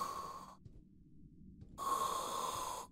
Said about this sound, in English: it sounds more like snoring than anything else